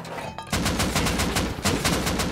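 Bursts of rapid gunfire ring out in the Rust video game as an enemy is killed, a short crack followed by a loud sustained volley of repeated shots, close and harsh.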